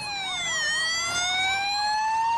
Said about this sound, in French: Calme habituel jusqu'à l'arrivée du corbillard, annoncé par la sirène